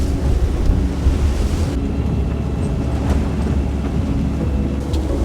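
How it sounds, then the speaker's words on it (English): Strong wind in about 35 knots roars over the microphone while waves surge and crash around a boat on open water off Haugesund, Norway, a loud continuous buffeting without a pause. "Alright, so I'm out testing in 35 knots of wind in Scanstrut, just outside Haugesund here. And the weather is crazy"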